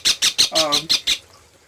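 Small pet birds, parrots and cockatiels, give a quick run of about seven loud, close, sharp chirps at an even rhythm, one with a brief squawky note in the middle, then stop abruptly.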